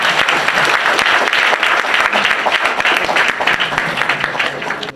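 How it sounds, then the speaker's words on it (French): Loud, sustained applause from a crowd, dense clapping continuing steadily for several seconds. "Applaudissez-le."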